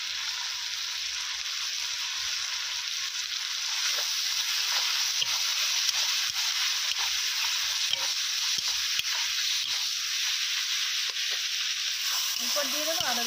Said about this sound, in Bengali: এরপর টমেটো কুচি দিয়ে দেবো।